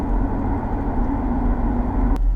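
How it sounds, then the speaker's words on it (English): An Audi RS3 with a sports exhaust fitted idles in a steady, deep rumble, close and fairly loud, with a brief sharp click near the end. "So this car has the sports exhaust fitted, and it sounds bloody great."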